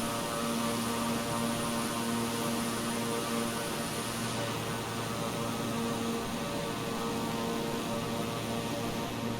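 A King Air 350i turboprop climbs after takeoff in Microsoft Flight Simulator, a steady, loud engine drone with a constant hum and airy noise, unbroken and without voices.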